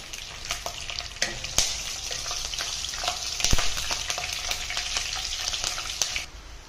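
Chopped chilli pieces frying in a pan for an egg masala curry: a close, crackling sizzle with repeated sharp spatula taps and scrapes throughout, with no voices.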